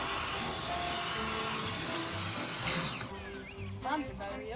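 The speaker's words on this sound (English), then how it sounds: "We're gonna get the vacuum out and give her a good vacuum" Vacuum cleaner running inside a pop-up camper, a loud steady whine that holds continuously, then cuts off near the end, followed by lighter shuffling and movement.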